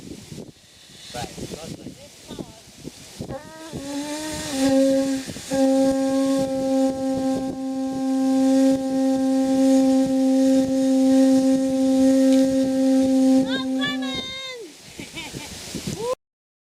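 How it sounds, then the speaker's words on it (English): A sustained foghorn-like tone is blown with full lung capacity, a loud droning note with harmonics held for about ten seconds, set between sounds of flowing water. "to blow with full lung capacity to make the foghorn chant"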